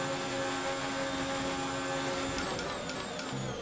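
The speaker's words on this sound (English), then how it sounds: "now I'm going to turn the engine up" Simulated Formula 1 car engine in F1 2019 at the Mexican Grand Prix, a steady, loud, high-pitched whine held throughout, with tonal shifts near the end as the revs change.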